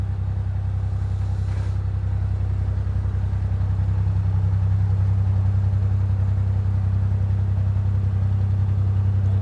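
A narrowboat's steady low engine drone runs throughout, even and continuous, with a slight rise in pitch as it pulls away from a boat stop; no voices.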